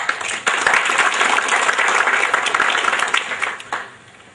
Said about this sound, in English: we welcome you with a round of applause.